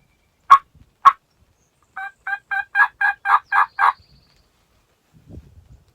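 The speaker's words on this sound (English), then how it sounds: "there's another hen off under the hill yelping and a gobbler gobbling" A wild turkey gobbler in the Kentucky woods calls nearby: two sharp notes, then a quick run of about eight rattling gobble notes that grow louder, ending in a faint low rustle.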